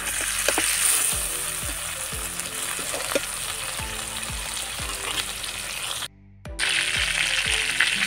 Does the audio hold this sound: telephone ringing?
no